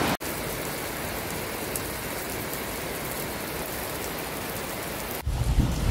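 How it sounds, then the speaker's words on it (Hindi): Heavy rain pours down in Goa during a sudden downpour, a loud, steady roar of drops that stays constant and dense, then breaks off near the end into a different rumbling noise. "कभी तेज बारिश हो रही है"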